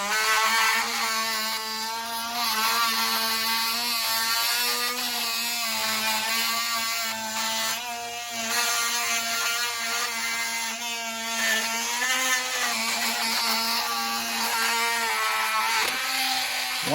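Power tool cutting through rusted window parts on a 1966 VW Split Bus, a steady loud whining grind with a sustained pitch that wavers slightly across the cut, running continuously without talk.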